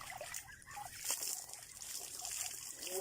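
Cold mountain-fed tap water splashes and trickles steadily during an outdoor bath, a soft, continuous pattering with occasional louder splashes, fairly faint.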